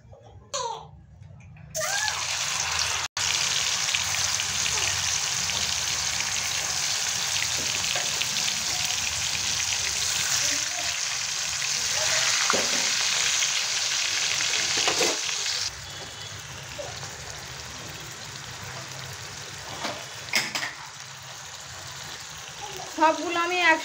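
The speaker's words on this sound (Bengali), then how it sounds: "আস্তে আস্তে ভাজা হোক" Marinated beef tikia patties fry in hot oil, a steady close crackling sizzle running throughout at moderate level, with brief handling noises and a voice speaking now and then.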